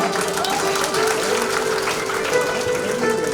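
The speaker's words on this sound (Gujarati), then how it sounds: "વાહ વાહ તાળી જોડાવો" An audience claps steadily in a dense, continuous patter of applause during a devotional Ramayana stage enactment, holding at even loudness throughout.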